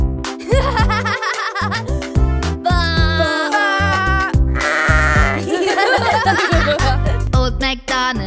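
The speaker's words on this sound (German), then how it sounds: "Und auf der Farm hat er ein Schaf, E-I-E-I-O." Cartoon sheep bleats set in a bouncy animated German children's farm song, repeated wavering baa calls laid over bright music and sung vocals, with giggling effects.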